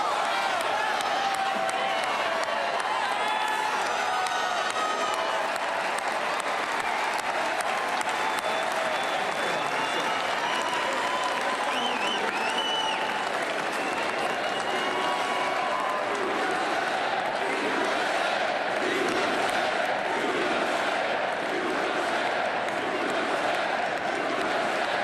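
Large arena crowd at the Washington, D.C. Capital One Arena presidential inauguration celebration cheers and applauds in a steady, dense roar that sustains throughout, with scattered shouts rising above the continuous clapping.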